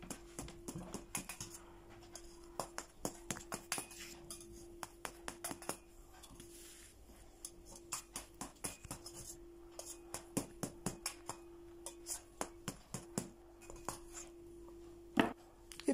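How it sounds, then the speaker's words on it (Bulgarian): A knife chops through a chocolate sponge cake, the Bulgarian "Negarche" traybake, in quick, irregular taps against a board, close and fairly quiet, with a steady faint hum underneath. "Нарязвам се сладкиша на парчета."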